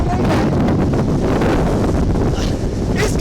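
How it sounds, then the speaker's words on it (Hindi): Strong wind from Cyclone Biparjoy making landfall in Dwarka, Gujarat, a loud, continuous roar buffeting the microphone, gusty with brief faint voices beneath. "तेज हवा चल रही है"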